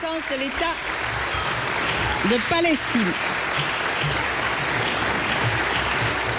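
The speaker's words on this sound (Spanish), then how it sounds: "Ovación de pie" French Senate members rise in a standing ovation after a vote, sustained dense applause filling the chamber while a voice talks over the opening seconds.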